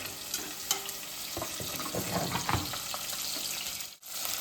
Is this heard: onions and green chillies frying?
yes